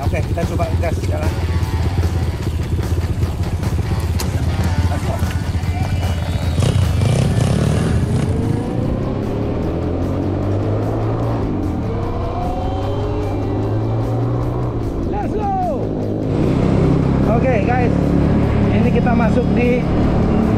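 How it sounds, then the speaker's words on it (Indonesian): A Kiwe KL 5000 ST trail motorcycle engine runs steadily throughout, with throttle changes as it rides off, and a voice talking over it. "mau cobain dulu motor Kiwe KL 5000 ST"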